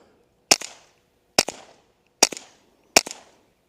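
Four sharp rifle shots from a B&T Print-X Tiger Ti go into dirt, spaced roughly a second apart, each a loud, close crack with a short echo tail over near silence.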